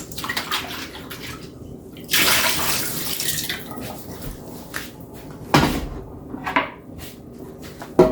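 Tap water runs intermittently over raw salmon as it is washed in a kitchen sink, with splashing bursts and clatters of handling between quieter stretches, close and moderately loud.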